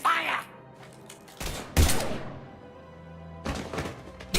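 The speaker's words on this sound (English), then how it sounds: "Now open fire!" Gunfire in Mass Effect 3 comes as several sharp, loud bursts with heavy thuds between quieter gaps, building to a final hard hit at the end.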